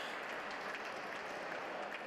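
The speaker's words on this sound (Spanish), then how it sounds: "Aplausos del público de Sartaguda" Audience applause fills the end of a pelota final in Sartaguda, Navarre: dense, steady clapping from a crowd that holds an even level throughout, with no voices standing out.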